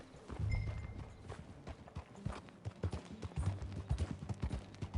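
Horse hooves clip-clop in a brisk, uneven rhythm on hard ground, fairly near, with no talking, in the video game Red Dead Redemption 2.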